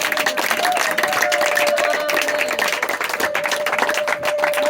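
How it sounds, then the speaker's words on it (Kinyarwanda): Congregation applauding inside a church, a steady wash of many hands clapping throughout, with a sustained tone running beneath the crowd noise. "Amashyi menshi ku Mana yacu"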